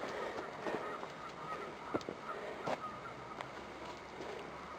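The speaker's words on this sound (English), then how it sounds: "I hear geese down there." Distant geese honk in scattered, intermittent calls below a hiking trail, over a steady wash of outdoor background noise.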